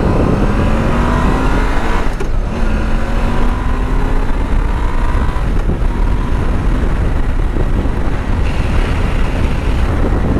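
A 2002 Honda VFR800 motorcycle on the move, its engine droning steadily with rising and falling pitch through gear changes, heavily buffeted by loud wind rush against the microphone.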